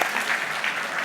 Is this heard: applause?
yes